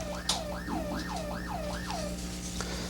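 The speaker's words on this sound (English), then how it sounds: "This is a test of your emergency alarm system for both Sulphur and Davis." An emergency alarm siren test wails, rising and falling in five even sweeps, loud and close, over a constant electrical hum.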